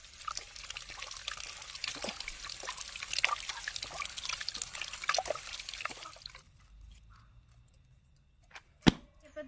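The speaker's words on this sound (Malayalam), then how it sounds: "ഇനി നമുക്ക് നന്നായിട്ട് ഇതൊന്ന് വാഷ് ചെയ്തിട്ട് വെള്ളം ഒഴിച്ചിട്ട് തിളപ്പിക്കാം" Herbs and leaves are washed under poured water, giving uneven splashing, trickling and dripping for several seconds before it goes quiet, followed by a single sharp click near the end.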